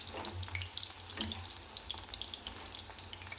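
Chicken pakodi pieces deep-fry in hot oil with a close, bright crackling sizzle made of rapid bubbling pops, steady and unbroken over a low background hum.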